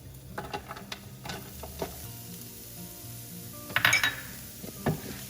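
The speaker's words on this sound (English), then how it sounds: "Get that sauteed in the pan." Garlic and shallots sauté in an oiled pan for a mushroom sauce, a soft, faint sizzle broken by a few clinks of a utensil against the pan.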